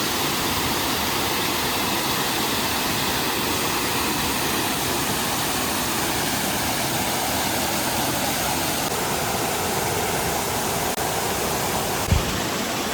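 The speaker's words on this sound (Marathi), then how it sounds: "हा आमच्या गावातील एक छोटासा धबधबा आहे." Small village waterfall in the Konkan countryside, a steady, broadband rush of falling water that runs unbroken and fairly loud throughout, with a brief knock near the end.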